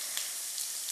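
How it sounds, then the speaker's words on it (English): Green chilies sizzling in a pan, a short steady frying hiss with faint crackles, close and alone. "Okay, and let this sizzle along."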